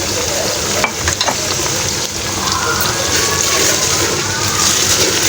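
Pureed fresh tomato, made from two ground tomatoes, hits a hot pan of frying mangochi and sizzles loudly and steadily up close, with a brief stirring scrape near the start and no talking.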